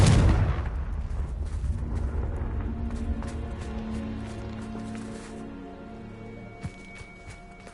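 A Confringo fire spell blasts in the Hogwarts Legacy video game, opening with a loud burst that settles into a rumbling, crackling tail with a sustained tone beneath, plus a few faint later pops.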